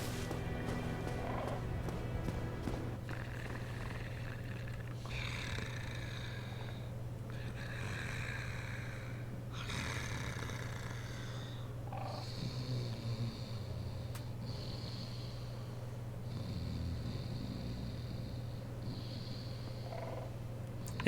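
A non-player character in Dark Souls Remastered snores faintly, with slow, repeated rasping breaths spaced a couple of seconds apart over a steady low ambient hum.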